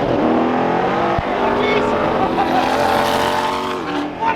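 A purple Lamborghini Revuelto supercar accelerates hard and close by, its loud engine roar building steadily through the whole stretch with dense layered tones.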